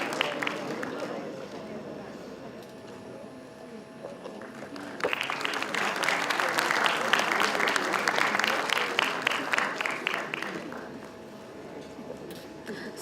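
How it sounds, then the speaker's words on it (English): Audience applause at an international conference, starting as scattered clapping under a speaking voice and then swelling into fuller, sustained clapping from the hall before tapering off. "A round of applause, please."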